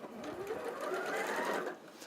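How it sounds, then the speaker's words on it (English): A sewing machine stitching fabric cut on the bias, running in one continuous close hum and rapid needle patter for nearly two seconds before easing off, with no talk over it. "Do not pull or stretch your fabric, just let the machine do the work for you"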